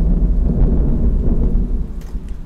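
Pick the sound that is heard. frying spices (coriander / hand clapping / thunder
thunder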